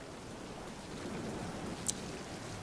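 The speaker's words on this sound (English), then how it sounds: "What do I need the rain for?" Rain in the video game Mind: Path to Thalamus: a soft, steady hiss of falling rain, fairly faint and even throughout, with one brief small splash near the end.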